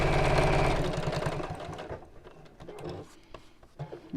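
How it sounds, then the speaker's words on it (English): A domestic sewing machine stitches across the bottom of a fabric purse to close the turning gap, a loud steady motor whir for about a second before falling to quieter intermittent hum and clicks. "again when I come to sew across the bottom, that will automatically sew the turning gap closed"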